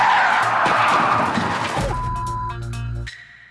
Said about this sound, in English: she hits the brake